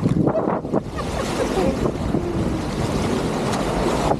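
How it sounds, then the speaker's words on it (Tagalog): Strong ocean waves at high tide, a continuous loud roar of surf and water rushing close by, buffeted by heavy wind noise on the microphone, with no clear talk. "Malakas kasi yung alon."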